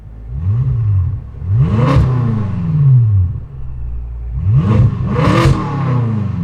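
A BMW F10 M5 engine with an FI aftermarket exhaust revs hard twice, each blip climbing sharply then falling back to a deep, rumbling idle, loud and close.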